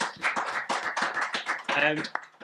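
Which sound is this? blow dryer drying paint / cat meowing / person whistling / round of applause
round of applause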